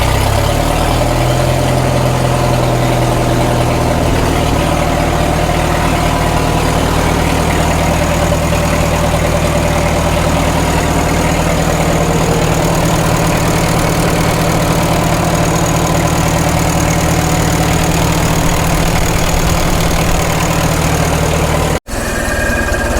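A 1936 Caterpillar Twenty-Two tractor engine idles at low throttle with a steady, loud, low rumble, then drops out abruptly just before the end.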